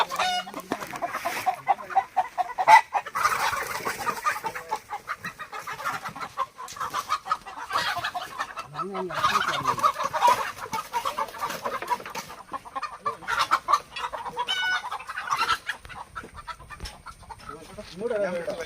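A chicken being swallowed by a snake clucks and squawks repeatedly in agitated bursts, fairly close and loud, with background voices and rustling throughout.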